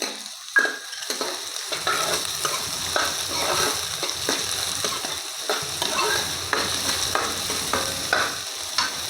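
Finely chopped onions fry in a pan with a continuous close sizzle, broken by repeated scraping stirs, and no one speaks.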